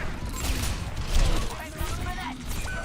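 Rapid gunfire crackles in an Overwatch match, a dense burst of shots and impacts mixed with game noise and some voice underneath.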